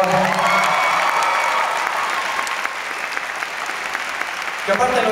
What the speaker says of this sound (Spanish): Quiero que le den un fuerte aplauso a Jonathan Pierre en la guitarra, por favor.